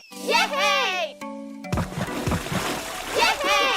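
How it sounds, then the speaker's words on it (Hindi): Cartoon children splash and play in water, a burst of splashing and sloshing with excited kid voices and chatter over a busy mix. "चलो सभी लोग पानी में मस्ती करते हैं"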